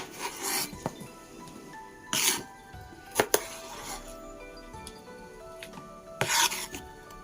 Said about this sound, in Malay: Dan seterusnya saya akan potong bendi ni.